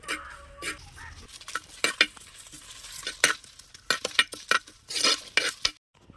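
Onions and dried red chillies fry in hot oil with a soft sizzle, as a spatula scrapes and clatters against the pan in quick irregular strokes.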